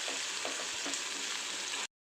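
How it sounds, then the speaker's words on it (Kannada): Onions fry toward golden brown in a pan, making a steady, close sizzle with soft stirring taps. The sound stops abruptly near the end and no one speaks. "ಇದನ್ನ ಗೋಲ್ಡನ್ ಬ್ರೌನ್ ಆಗೋವರೆಗೂ ಒಂದು ಸ್ವಲ್ಪ ನಾವು ಇದನ್ನ ಫ್ರೈ ಮಾಡ್ಕೋಬೇಕು."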